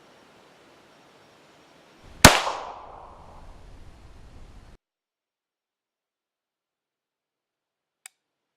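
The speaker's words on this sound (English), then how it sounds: "let's go ahead and put some rounds downrange" A single loud, crisp shot from a Primary Machine Stealth Comp firearm at an outdoor range, with a short echoing tail that fades into quiet, then a faint tick a few seconds later.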